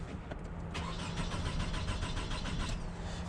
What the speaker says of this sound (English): here's what it sounds like trying to start.